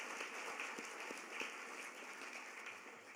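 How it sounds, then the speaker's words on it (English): Audience applause at a community author event, a steady, faint wash of clapping sustained throughout without voices. "I would like to give him a huge round of applause"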